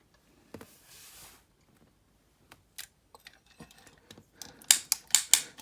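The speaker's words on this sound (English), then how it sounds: "So you can hear the clicking of the ratchet." Small plastic clicks from the ratchet joints of a Heavy Metal T-28 action toy sound in scattered bursts, then a quick run of louder, sharper ratcheting clicks near the end, close to the microphone.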